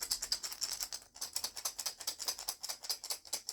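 A handheld rattle shaken in a steady rhythmic pattern for aura cleansing, producing dense bright clattering pulses, close and moderately loud, with one brief pause before the shaking resumes; no voices.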